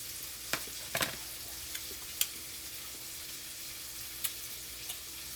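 T-bone steak sizzling in a pan of melting butter, a soft steady frying hiss running throughout with a few faint pops and spits.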